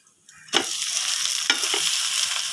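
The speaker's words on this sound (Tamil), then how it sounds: "கடுகு, உளுத்தம்பருப்பு போட்டு அது பொரியட்டும்" Mustard seeds, urad dal and dried red chilies hitting hot oil, a sudden loud hiss that settles into a strong steady sizzle, with a couple of stirring knocks, close up and with no voices.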